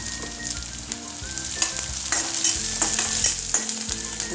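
Chopped onion sautés with a steady sizzle in a pan for a potato bhaji, while a spoon scrapes and stirs it in close, repeated strokes. No voices are heard.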